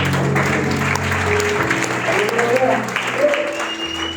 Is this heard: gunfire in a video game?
no